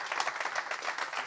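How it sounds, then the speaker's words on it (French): Audience applause at the close of a round-table discussion, a brief burst of many hands clapping in a dense, steady patter at moderate level. "Merci de les applaudir."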